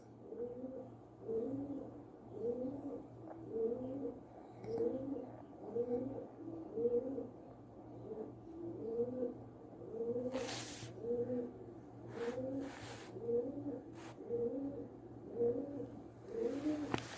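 A bird, likely a pigeon or dove, coos in a steady repeating rhythm of soft, low phrases nearby, continuing throughout over a faint background hum.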